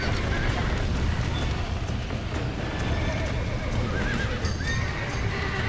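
Horses in a ranch barn in the Red Dead video game neigh and whinny over dense, noisy clatter and hoof sounds, loud and continuous, with a voice speaking through the din.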